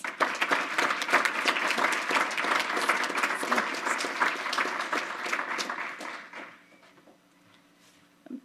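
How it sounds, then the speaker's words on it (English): Enthusiastic applause from a large crowd at a school district board meeting, dense and sustained for several seconds before tapering off into quiet. "Another round of applause."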